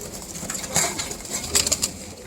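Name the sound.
pigeons cooing in loft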